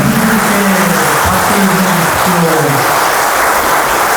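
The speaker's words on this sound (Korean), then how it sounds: "다시 한번 박수" A temple audience at Hwaeomsa in Gurye applauds at the close of a Buddhist dharma talk, a dense, loud, sustained clapping that fills the whole stretch.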